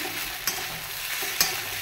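Sago khichdi with potatoes sizzles in a pan, with a steady fry hiss and two brief scraping stirs of the spoon, close and alone.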